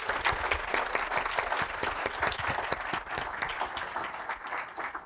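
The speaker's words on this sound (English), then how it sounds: "can you all join me in giving them a round of applause?" An audience at a LIFT Academy event applauds, a dense, sustained roar of many hands clapping at moderate volume that holds steady and thins slightly toward the end.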